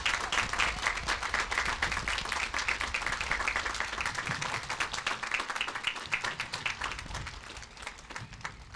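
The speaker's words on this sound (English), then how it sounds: "give the volunteers that take care of this cemetery and all the employees a nice round of applause" An outdoor Memorial Day crowd at a cemetery applauds volunteers and staff with sustained, dense clapping that holds steady for several seconds before easing slightly toward the end.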